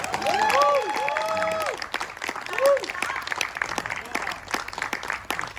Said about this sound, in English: What about one more round of applause for Eric?